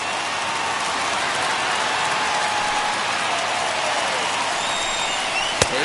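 A packed stadium crowd of over 39,000 in MLB The Show 21 roars continuously at a steady loud level, like a dense wash of cheering and applause, with a brief sharp crack near the end.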